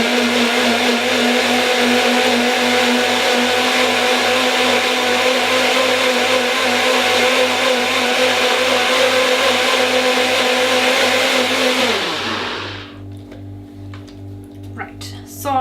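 Food processor whirring steadily as it blends strawberry sauce, a loud continuous motor drone with a rhythmic pulse, then winding down near the end and stopping, followed by quiet clinks.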